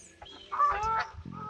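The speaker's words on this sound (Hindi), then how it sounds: "बतख भी आवाज़ कर रहा है थोड़ा थोड़ा।" A duck calls a few times beside a small pond, a short burst of honking cries at close range with quiet background.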